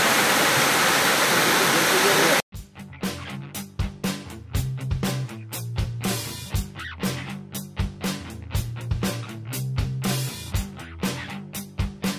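Vattakanal Falls, a small stepped waterfall, pours with a dense, even rush for a couple of seconds before cutting off abruptly to rhythmic, tonal sounds.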